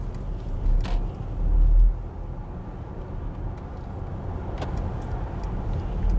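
A Mercedes EQS 450+ electric car drives along a road with a steady low rumble of tyre and road noise, swelling briefly near the start, with no voices.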